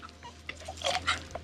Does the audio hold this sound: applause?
no